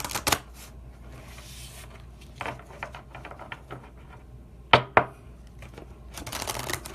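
Tarot cards shuffled and drawn from a deck, sharp riffling bursts at the start, middle and end with soft card flicks and slides between, close and otherwise quiet.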